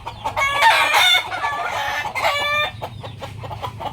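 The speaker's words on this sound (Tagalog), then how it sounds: "Ito ang bilihan ng mga manok dito." Chickens clucking and a rooster crowing at a poultry market, several birds close by with overlapping calls and a crow standing out in the first few seconds, then scattered clucks.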